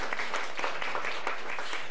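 A church congregation applauding together, a dense, even patter of many hands clapping at moderate volume, sustained and unbroken with no voices over it.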